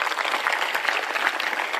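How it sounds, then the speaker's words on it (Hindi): Audience at a Hindu religious discourse gathering breaks into steady, dense clapping that fills the brief moment at an even, loud level with no break. "एक बार ताली बजाओ।"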